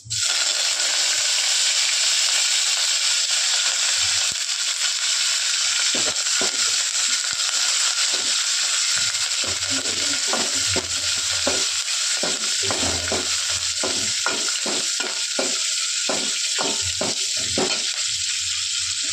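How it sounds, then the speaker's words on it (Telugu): Curry leaves, mustard seeds and cumin sizzle loudly and steadily in hot oil for tempering, with a stream of sharp crackles and pops growing denser toward the end. "కొంచెం కరివేపాకు వేస్తున్నాను ఫ్రెండ్స్."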